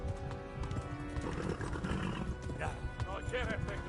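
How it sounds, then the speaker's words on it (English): A horse neighs and whinnies in the medieval video game Kingdom Come, with hoof clip-clop, over a dense game soundscape while people talk and shout excitedly. "Oh, horsey! Horsey! Poor horsey!"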